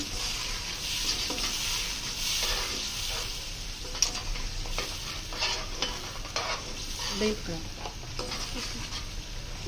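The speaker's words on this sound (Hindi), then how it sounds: "इन मसालों को अच्छी तरह मिक्स करके" Spices for chana pulao are stirred and fried in a pot, giving a close, continuous sizzle with scraping stir strokes and occasional clinks, and a voice speaks intermittently over it.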